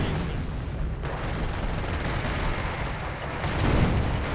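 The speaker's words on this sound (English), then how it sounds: "Nebelwerfer was called in a blockade artillery maneuver to sort of block the Soviets from moving in" A Nebelwerfer rocket artillery barrage with gunfire in the World War II strategy game Company of Heroes, a dense continuous rumble of distant blasts and crackling fire that swells slightly near the end, with no voices.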